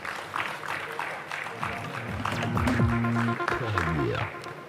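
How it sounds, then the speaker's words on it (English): Applause rises from a large conference summit audience under music and loud background chatter, clapping filling most of the moment without pause. "Huge round of applause, please."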